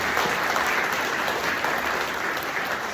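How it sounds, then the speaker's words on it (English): Sustained applause from a room full of people at a memorial gathering, dense and even, clapping without pause for the whole few seconds. "Can we give a round of applause to everybody here?"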